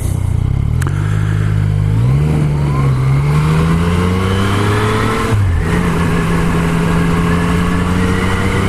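A Yamaha MT motorcycle on Pirelli Diablo Rosso 3 tyres rides over a loose surface, its engine droning loudly up close with rising and falling pitch through gear changes and throttle shifts, under steady wind noise.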